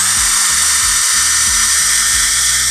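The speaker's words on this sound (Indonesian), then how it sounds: "Kita pindah ke impact drill." A Xenon CDID1845 18V cordless impact drill bores into a hebel block with a loud, steady high-pitched whine and a rapid, regular hammering pulse, close and alone.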